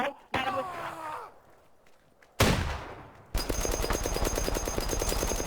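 Gunfire in a survival video game crackles in a sharp burst, then a dense, sustained stream of rapid shots takes over the second half, loud and close, with a player's voice briefly heard early on.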